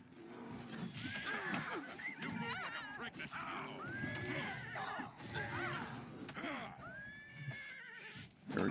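A horse in an Oblivion Remastered fantasy game neighs and whinnies repeatedly over about nine seconds, with hoof clip-clops and faint background game sounds, fairly quiet overall.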